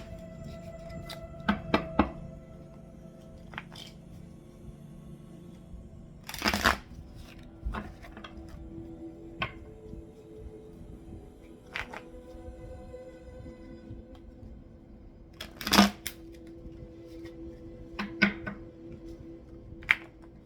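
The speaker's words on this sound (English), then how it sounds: "let me go ahead and begin the shuffling" Tarot cards are shuffled and handled, with soft riffles, taps and occasional sharp knocks on a surface, up close and fairly quiet.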